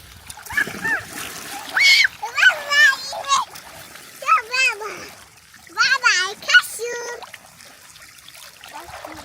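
Water splashes and spills over the edge of a cheap homemade swimming pool in a village, with splattering and trickling mixed under the excited chatter of children talking throughout.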